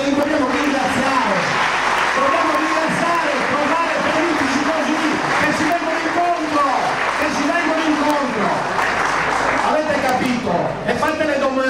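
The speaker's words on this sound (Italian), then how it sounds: "Fatele un grande applauso e noi li vogliamo ringraziare." Audience applause at an Italian athletics celebration in Sardinia, a loud sustained clapping from a crowd that runs the full length, with a voice talking over it.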